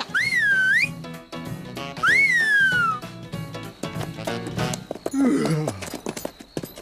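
A cartoon character whistles two bright gliding phrases, each rising and then falling, followed by busier scuffling and tonal effects from the animated scene.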